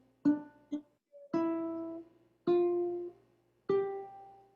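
Ukulele notes picked one at a time with the left hand mistimed, each clear plucked tone cut off abruptly as the strings stop. Five or six notes ring alone at an uneven pace, some choked short.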